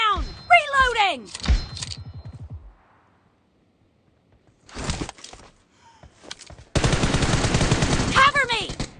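M1014 shotgun blasts in PUBG Mobile, a few loud sharp reports spread across the clip with a dense burst of rapid fire near the end, mixed with in-game voice callouts and a quiet gap in the middle.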